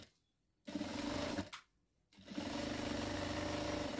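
A sewing machine stitches a handbag in two bursts, a short run and then a longer steady one, each separated by a quiet pause, fairly faint and alone.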